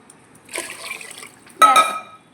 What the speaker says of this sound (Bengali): জল দিয়ে রেখে দিলাম, চালটা এখন ভিজুক